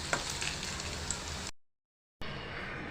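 Chicken kofta balls fry in oil with a dense, even, close crackling sizzle that cuts out abruptly into a brief silence and then resumes, no voices present.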